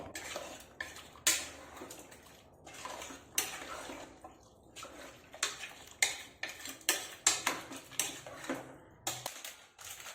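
Metal utensil scraping and clinking against a pot in irregular bursts while stirring chicken and masala for an oil-free curry, with brief pauses between strokes and no voices.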